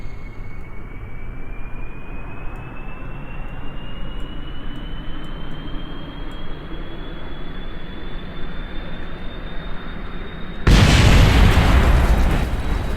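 Rocket engine firing in Kerbal Space Program, a steady loud roar with a rising whine that suddenly surges into a heavier, harsher blast near the end, with no talk over it.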